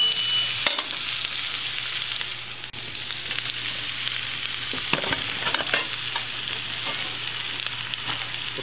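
Onions sauté in butter in a pan, a steady close sizzle and crackle with occasional stirring clicks and no talking.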